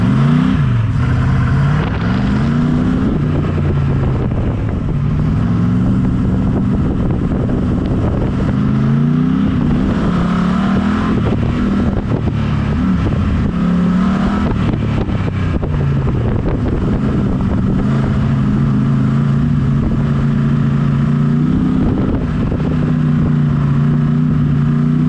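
A car races at a wet-track GRIP autocross event, its engine roaring loud and close throughout, revving up and down repeatedly through corners and shifts, with wind rushing over the microphone.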